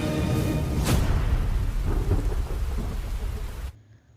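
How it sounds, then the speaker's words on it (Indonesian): Rolling thunder cracks near the start over steady heavy rain, the downpour hissing continuously before it cuts off abruptly. "Tiba-tiba langit mendung menandakan hujan akan segera turun."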